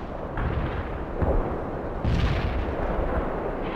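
Artillery booms in the war strategy game World in Conflict, heavy rumbling blasts rolling one into another, with a second loud burst about midway through a dense, continuous battle din.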